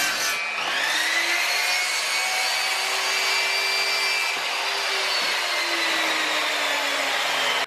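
Wooden skirting boards being cut with a power saw in a bedroom makeover, a loud continuous whine that shifts slightly in pitch as the blade works through the wood, with no talking.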